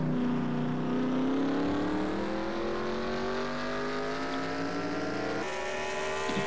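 Race cars roar past in a stock-car series race video game, with engines revving and rising in pitch as they accelerate, loud and continuous, with a sharp shift in tone near the end.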